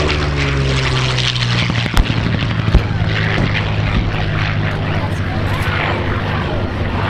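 A Curtiss P-40 fighter plane flies over an air show, giving a loud continuous propeller-engine drone with a few sharp knocks, while a commentator talks over it.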